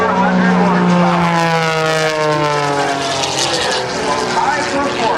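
A high-performance aerobatic biplane weighing about 1,227 pounds, with over 400 horsepower, performs at an airshow. Its loud, droning propeller engine shifts pitch steadily throughout, with an announcer talking over it.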